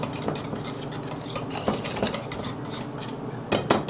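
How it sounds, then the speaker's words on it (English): A pastry blender stirs dry biscuit ingredients in a bowl, making a steady close scraping, rubbing swish with soft rhythmic strokes and a few brighter metallic clinks near the end. "Now I'm going to take my pastry blender and I'm just going to give that a quick stir to combine all of the dry ingredients"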